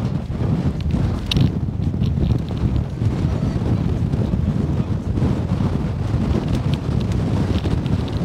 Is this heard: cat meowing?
no